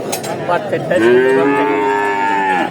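A cow lets out a long, loud moo close by at a rural livestock market, with faint background chatter and bustle around it.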